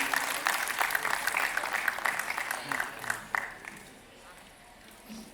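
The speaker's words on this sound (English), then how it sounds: "Please join me in welcoming him with a resounding round of applause, ladies and gentlemen." An insurance and healthcare tech conference audience applauds a speaker being welcomed on stage; dense clapping for about three seconds that thins and fades toward the end.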